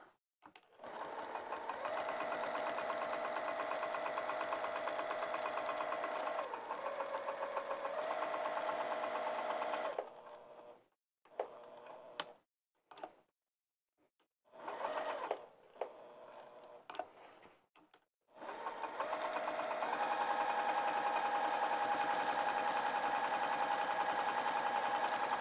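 A sewing machine stitches fabric for a bag in long, steady whirring runs, stopping and starting in short bursts through the middle before settling into another sustained run, close and loud with no talking.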